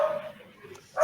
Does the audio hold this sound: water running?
no